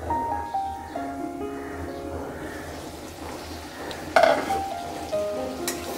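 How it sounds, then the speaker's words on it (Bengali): Spice paste for a chicken gizzard and liver curry fries in a pan, a soft close sizzle with occasional stirring scrapes and one brief clatter near the end. "এবার আমি ঢেকে মশলাটা সুন্দর করে কষিয়ে নেব।"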